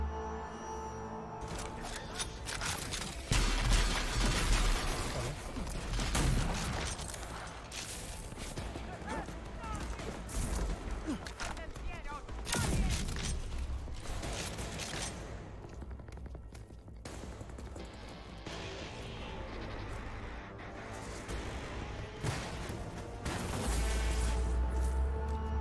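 Explosions and gunfire in the shooter game RAGE 2, a dense, continuous barrage of blasts and shots with booming hits throughout, with a voice talking over the action at times.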